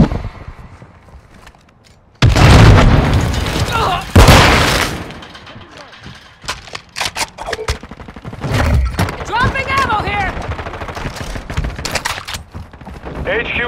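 Claymore mine blasts in Call of Duty: Modern Warfare II, two loud sudden booms a couple of seconds apart, then scattered gunfire and battle noise with voices calling out in between.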